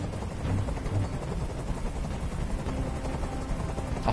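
Helicopter flying in the video game Detroit: Become Human, a steady dense rotor rumble holding at constant loudness throughout.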